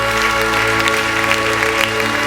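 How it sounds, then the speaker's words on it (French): A church congregation claps steadily and loudly in a dense, continuous burst of applause during a morning worship service. "On peut applaudir le Seigneur ce matin."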